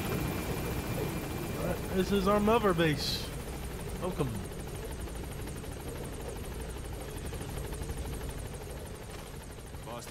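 Helicopter in Metal Gear Solid V: The Phantom Pain arriving at Mother Base, its continuous rotor drone running beneath a voice and other game sounds for the whole stretch.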